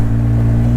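A 2014 Polaris RZR 800 EPS side-by-side pulling away smoothly as its clutch engages: a steady, loud low engine drone with a constant hum and no change in pitch over a brief moment.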